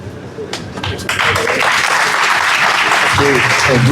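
Audience at a game jam award ceremony breaking into applause, a few scattered claps that quickly build into dense, loud clapping, with a voice briefly heard.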